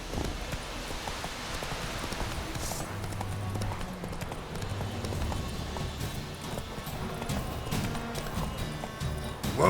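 Hooves of Geralt's horse Roach clip-clop steadily in The Witcher 3, a continuous rhythmic trot set against rain and ambient noise, with a voice speaking briefly.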